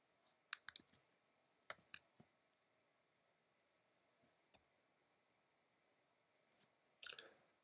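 Computer keyboard keys are pressed in quiet, sharp clicks, some single and some in quick clusters of two or three, separated by pauses over several seconds against near silence.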